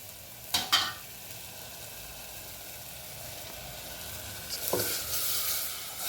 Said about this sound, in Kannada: ಕುದಿಬೇಕು, ಚೆನ್ನಾಗಿ ಕುದಿಬೇಕು